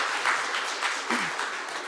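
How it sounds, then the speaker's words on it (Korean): An audience at a local legislation awards forum applauds award winners, a brief, steady, full round of clapping heard close with no voices over it. "박수로 맞아주시기 바랍니다"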